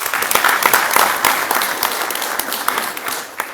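A crowd claps warmly at the opening ceremony of an army conference in Abuja, dense at first and gradually tapering as the brief burst of applause winds down.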